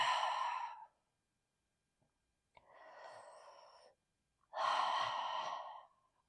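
Three slow, deep breaths during a yoga class in a forearm down-dog position, each a long airy exhale or inhale separated by quiet pauses, close and clear with no talking.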